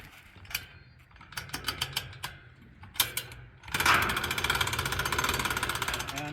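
A ramp release mechanism on an off-grid cabin clicks and clacks in a series of sharp metallic ticks, then gives way to a sustained rattling whir, close and loud.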